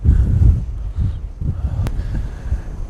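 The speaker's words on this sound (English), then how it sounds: "It's gone crazily windy" Strong wind buffets the microphone outdoors during a landscape photography shoot at sunset, making deep, rumbling gusts that swell and fade unevenly and stay loud and close throughout.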